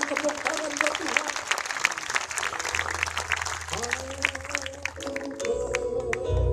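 Church congregation at a healing crusade applauds, a steady crackle of many hands clapping, mixed with voices and sustained music tones that swell toward the end.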